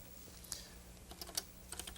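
Fingers tap steadily on a computer keyboard in an early-1980s educational computing demonstration, a quiet, close run of irregular key clicks with brief pauses between bursts.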